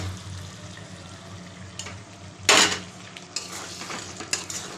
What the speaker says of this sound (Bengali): এবার আমি যে চিকেনটা ভেজে রেখেছিলাম সেটা দিয়ে দেবো